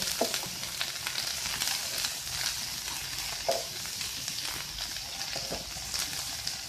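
Clams frying in butter in a pan, giving a dense, steady sizzle with faint stirring clicks throughout.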